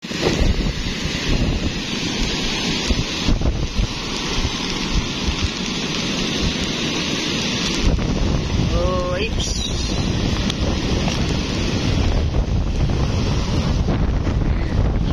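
Strong typhoon wind roars steadily and buffets the microphone, mixed with rain-like hiss and surf, while a voice briefly exclaims partway through.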